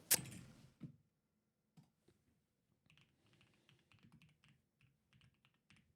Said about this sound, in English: Are you fake typing right now?